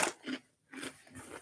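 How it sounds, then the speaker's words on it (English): Doritos chips being chewed, a few close, crisp crunching bites with a short pause between them. "Eating Doritos."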